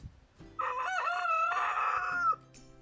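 A rooster crows once, loud and close, a long drawn-out call of nearly two seconds with quiet farmyard ambience before and after.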